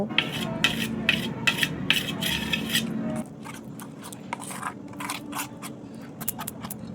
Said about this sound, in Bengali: একটি চামচের সাহায্যে সবগুলো উপকরণ ভালো করে মিশিয়ে নেব